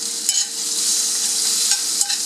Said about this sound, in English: I turned the fillet on the other side and I'm now letting it cook